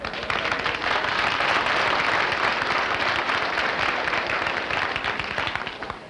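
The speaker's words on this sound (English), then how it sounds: "that certainly warrants applause" Studio audience applause on a classic game show, dense and sustained clapping from a crowd that stays loud throughout, with no talking over it.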